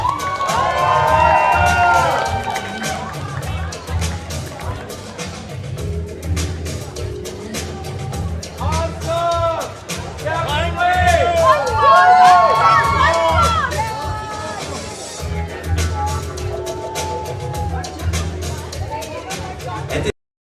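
Crowd at a wedding sangeet cheering and whooping for the bride's parents, loud sustained shouts and high excited cries over thumping music, with an announcer's voice amplified above it.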